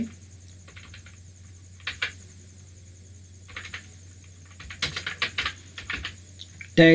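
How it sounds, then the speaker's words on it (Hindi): Keystrokes on a computer keyboard as the words Tally Prime are typed into a search box, sparse taps at first and then a quicker run of clicks, close and fairly quiet over a steady background hum. "यहाँ पे आप डायरेक्टली यहाँ पे लिख दीजिएगा टैली"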